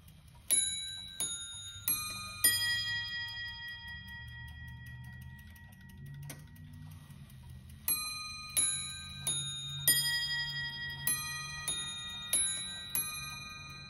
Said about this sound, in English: So I'm gonna give y'all a quick demo here of these chiming bells.